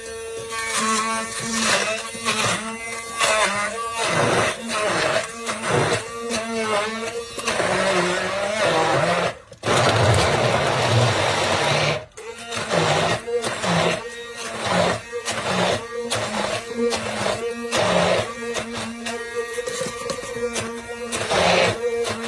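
An immersion blender wand purees a paste of lime juice and kaffir lime leaves for Cambodian fish amok, a steady buzzing whir broken into repeated pulses with brief pauses, loud and close, with no talking over it.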